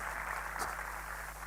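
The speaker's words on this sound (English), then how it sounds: "Big round of applause" Audience applause at a university startup talk, a steady wash of clapping from a crowd that fills the space evenly without a break, with no clear voices over it.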